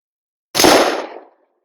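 A Savage Axis rifle in 25-06 fires a single sharp shot over a chronograph, a loud close crack with a short decaying tail and no talk.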